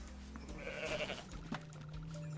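A goat bleats in the Goat Simulator video game, a wavering nasal cry rising over steady game background noise, followed by a few soft clicks and a lower sustained tone.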